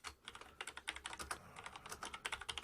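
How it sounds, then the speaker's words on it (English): Rapid, close keystrokes come from someone typing a text message on a computer keyboard, with quick irregular taps and a brief pause midway. "type in a message"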